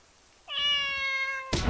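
A cat meows once in The Good Life video game, a clear rising then sustained tonal call lasting about a second, followed by a sudden burst of broadband noise at the end.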